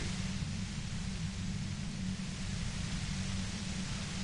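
Steady, loud radio white noise from Disco Elysium, a dense even hiss with a low rumbling static layer, unbroken and with no voices.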